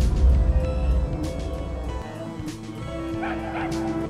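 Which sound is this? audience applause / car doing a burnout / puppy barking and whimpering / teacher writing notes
puppy barking and whimpering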